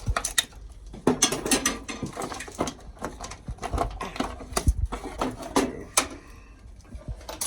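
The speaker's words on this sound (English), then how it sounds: "unbolt the transmission, and you got to undo the torque converter bolts" A ratchet wrench clicks rapidly as torque converter bolts are undone on a Jeep WK with a 4.7L engine, close, irregular bursts of pawl ratcheting mixed with clunks of metal in a garage.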